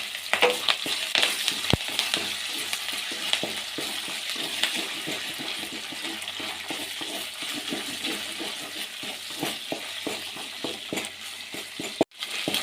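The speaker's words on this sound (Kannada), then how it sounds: "ನೀಟಾಗಿ ಶುಂಠಿ ಬೆಳ್ಳುಳ್ಳಿ ಪೇಸ್ಟ್ ಹಸಿ ವಾಸನೆ ಹೋಗುವವರೆಗೂ ನೀಟಾಗಿ ಹುರ್ಕೊಳ್ಳಿ" Ginger garlic paste frying in a pan with oil, a continuous close sizzle with occasional stirring clicks and one sharp clatter near the end.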